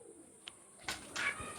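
Teddy pigeons in a Kolkata loft give a few soft, low coos and faint calls, quiet and close, with no voices.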